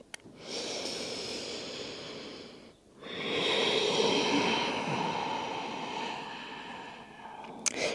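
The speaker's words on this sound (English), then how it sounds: "One more breath." Deep pranayama breathing during a vinyasa yoga practice: a long, loud airy exhale, a brief pause, then another long, steady breath, close and unaccompanied by speech.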